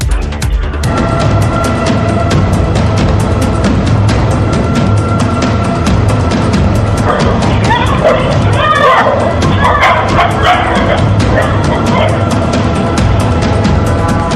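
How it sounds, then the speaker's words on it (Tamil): Three stray dogs bark and yip while chasing a boy, caught on CCTV, the loud barking running continuously beneath a steady voice speaking throughout. "மூன்று திருநாய்கள் துரத்திச் சென்ற பதபதைக்கு வைக்கக்கூடிய சிசிடிவி காட்சி வெளியாகியுள்ளது"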